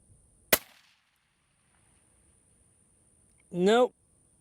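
A single sharp rifle shot from a Savage Ultralite Elite cracks out close by and quickly dies away, followed by a long quiet stretch and a brief spoken remark at the end.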